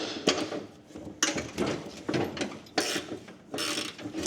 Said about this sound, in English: Now let's unscrew these pulleys. You are gonna need a 15mm deep ball socket for this.